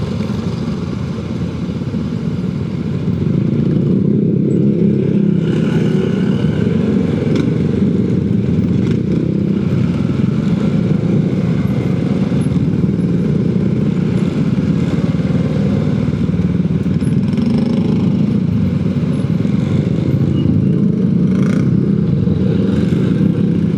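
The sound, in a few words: motorcycle riding onto a ferry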